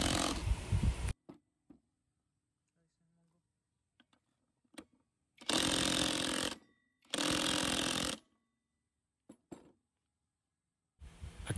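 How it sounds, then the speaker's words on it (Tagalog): Impact wrench tightening the CVT nut on a Honda Click 125i scooter, firing in two loud, close rattling bursts of about two seconds each, with shorter bursts at the start and end and faint clicks and handling noises between them. "Tapos tsaka nyo siya gamitan ng impact wrench para mahigpitan nyo na maigi mga boss."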